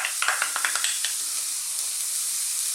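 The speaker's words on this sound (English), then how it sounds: "I'm going to start off by dropping in our onions." Chopped onions land in hot olive oil in a wok for a tuna and bean chili, giving a loud, steady close sizzle and hiss with a few quick stirring clatters at the start and no talking.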